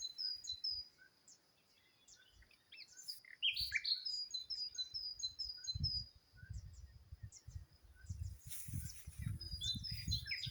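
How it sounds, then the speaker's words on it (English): A bird sings outdoors on a rural farm property beside a large pond, with repeated high, quick chirps and tweets at moderate distance, over soft low rumbling wind and handling noise. "can you hear that bird?"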